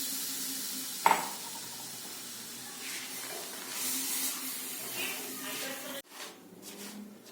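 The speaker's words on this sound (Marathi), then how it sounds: "काजू मंद आचेवर तांबूस रंग येईपर्यंत भाजून घ्यायचे आहेत। काजूला एकसारखे हलवत राहायचे आहे।" Cashews dry-roasting in a bed of salt over a low flame, stirred steadily, giving a soft continuous scraping hiss with a sharp clink near the start and a brief drop toward the end.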